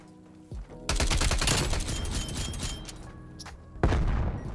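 SMG in Black Ops Cold War firing long rapid bursts, a dense loud rattle of shots that fades out, then a second short burst near the end.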